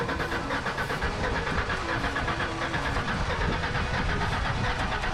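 Engine of a Ford OBS project pickup truck running steadily, a loud, close, continuous rumble with an even churning texture and no distinct revving.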